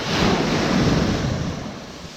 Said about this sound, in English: Waves are getting a little bigger down here.